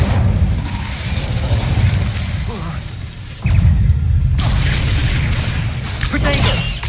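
A fire-casting spell fires in the Hogwarts Legacy video game, giving loud booming bursts with a sharp onset midway, then dense crackling, whooshing effects layered over a steady rumbling game soundtrack, with a voice calling out spells.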